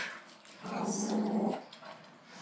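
A small pet dog gives a low, close growl lasting about a second, with softer grumbling before and after it in a quiet indoor room.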